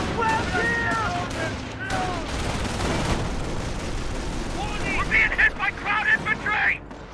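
Gunfire and explosions rattle through a Company of Heroes battle in Normandy, with bursts and booms mixed under shouted in-game voices and radio chatter that fill much of the clip.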